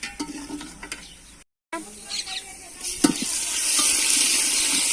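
Steady sizzling of ginger and garlic frying in a hot pan, with occasional stirring scrapes and clinks, the sizzle growing louder toward the end.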